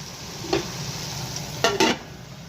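A spatula stirs chicken in a sizzling pan, giving a few sharp scraping strokes over a steady frying hiss.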